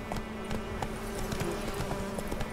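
Horse hooves clip-clop at a steady trot in The Witcher 3, crisp regular hoofbeats on the ground in a quiet forest setting, close and clear with a low ambient hum beneath.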